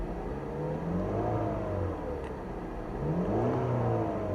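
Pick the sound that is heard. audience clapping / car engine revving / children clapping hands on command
car engine revving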